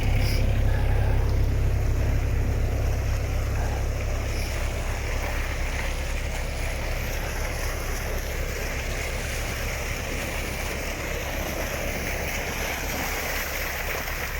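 Water rushing steadily through the plumbing of a newly built gold mine processing plant, a continuous broadband roar with a heavy low rumble, loud and unbroken with no voices.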